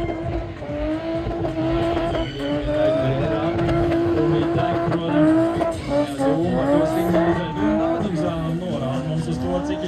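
A BMW doing a burnout at a burnout challenge event, engine roaring steadily with rising and falling revs and tire squeal for the whole stretch, loud and close, with crowd noise underneath.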